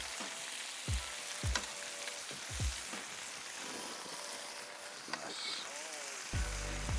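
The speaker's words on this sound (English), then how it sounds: "Give the pork a turn, and once it's browned on one side, we're looking for the same again on the other side." Pork and onions frying in a hot pan, a steady close sizzle with periodic clatters and scrapes as the meat is turned, while a person talks over it.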